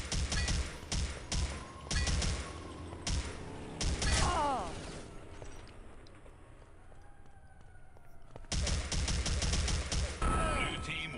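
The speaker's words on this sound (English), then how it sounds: "But Rival's G36 bullets move a lot faster than your grenade does." Bursts of rapid G36 rifle fire crackle in a competitive first-person shooter match, with dense volleys separated by quieter gaps filled with game sounds, while a commentator's voice is faintly present.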